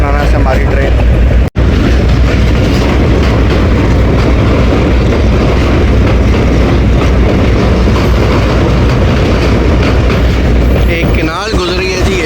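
A Pakistan Railways 2 DN shuttle passenger train pulls away from a junction and runs along the rails, a loud, continuous rumble and clatter close by that stays steady throughout, with one brief dropout near the start.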